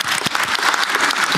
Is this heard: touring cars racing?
no